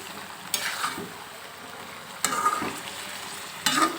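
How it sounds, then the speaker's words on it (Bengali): Winter vegetable curry being stir-fried in a pan, with a steady low sizzle broken by three louder bursts of scraping and stirring as the mix is turned over, close and alone. "এখন এটাকে ভালো করে উপর নিচ করে ভেজে দিচ্ছি"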